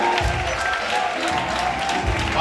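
A crowd applauds steadily, dense clapping filling the whole stretch with some mixed voices in the background.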